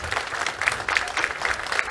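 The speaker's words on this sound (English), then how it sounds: "so let's give them a round of applause." A small crowd claps for staff at a recreation center grand opening, a light, fairly faint patter of applause that carries on for a couple of seconds.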